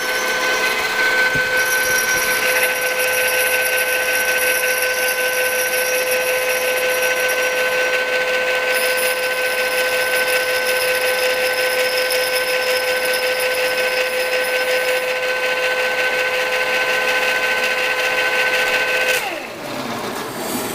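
A machine cuts the last tooth of a D16T aluminium gear, a steady whining mechanical hum with high tonal ringing, held for about twenty seconds before winding down.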